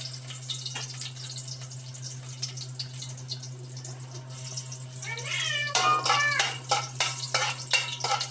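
Garlic hits hot cooking oil in a pan at home, breaking into a loud sizzle with crackling bursts partway through, over a steady low hum.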